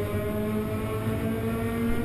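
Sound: race car engine shifting up through the gears, onboard

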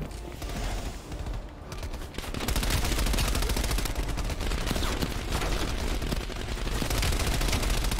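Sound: gunfire, Black Ops Cold War video game

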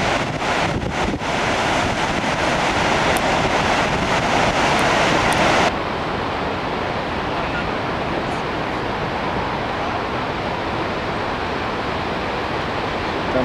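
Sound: Niagara Falls waterfall roar with wind

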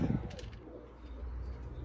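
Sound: young pigeons cooing in a coop

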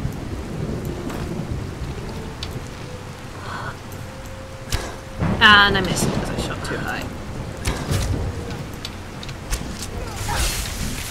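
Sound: rain and thunder in video game Skyrim

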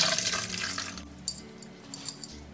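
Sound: draining cooked harusame noodles, water pouring out

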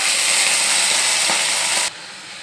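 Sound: cabbage frying in hot oil

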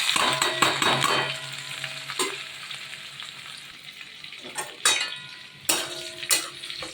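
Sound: whole-spice tempering sizzling in hot oil

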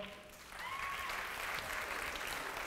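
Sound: applause

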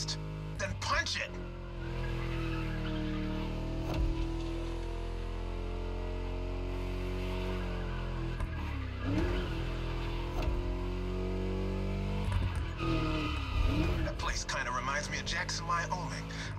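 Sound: V8 car engine racing in The Crew Motorfest video game

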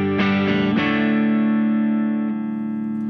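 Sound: electric guitar played on the neck pickup

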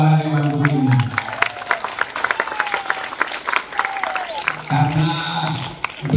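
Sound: applause for the teachers

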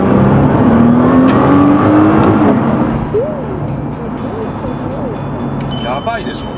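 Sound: Nissan GT-R car accelerating hard

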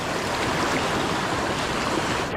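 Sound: rushing river water

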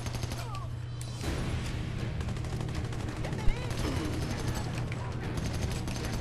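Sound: gunfire from a gun in the video game Army of Two: The Devil's Cartel

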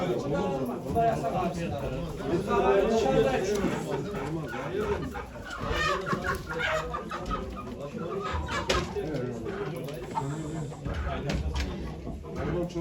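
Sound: chickens clucking at a poultry auction

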